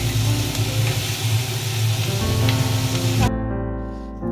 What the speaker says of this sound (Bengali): এখন চিকেন রোলটা আমি হালকা ভেজে নেব এভাবে